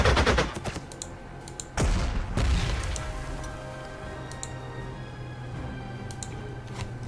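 Bombing attack in the Panzer Corps 2 strategy video game: a sharp loud blast opens, then a second heavy boom about two seconds later that rumbles and fades, leaving a steady low background with faint clicks.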